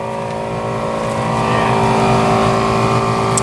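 An AMC car with a 390 dual carb engine idles and revs loudly nearby, a steady heavy rumble that swells a little partway through, with faint talk underneath.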